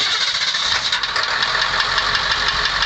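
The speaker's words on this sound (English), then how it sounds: "Go ahead and crank it up here and show you how she's running." A 2002 International Thomas school bus with a Ford 7.3L Powerstroke turbo diesel engine running, a loud, steady, close-up diesel clatter with a rough knocking texture that holds throughout without talk.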